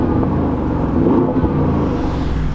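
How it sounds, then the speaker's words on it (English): A 2022 Audi SQ7 Prestige with a V8 engine, revved briefly while parked nearby, a muted, deep rumbling rise and fall that lasts a couple of seconds with no voices over it. "Let me just rev this engine for you a little bit."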